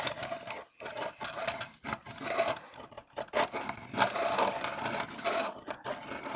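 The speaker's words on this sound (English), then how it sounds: "I think this needs sharpening. Also, while I cleaned my workspace, I found my Derwent sharpener." A pencil is sharpened in a Derwent sharpener, giving close, continuous wooden grinding and scraping broken by several brief pauses, fairly quiet, with no voices.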